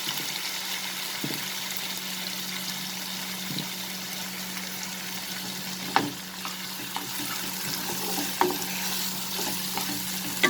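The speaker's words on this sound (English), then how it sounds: "Now I will add the chopped onions." Chopped onions frying in a pan for a pointed gourd dish, a steady soft sizzle with occasional scrapes and stirring clicks of a spoon, close and alone.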